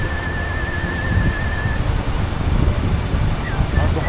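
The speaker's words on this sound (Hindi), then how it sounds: "और बहुत तेज़ हवा है इधर।" Strong wind at about 4130 m altitude roars steadily across the microphone in a continuous loud rush with gusting surges, a thin tone drifting above the blustery noise.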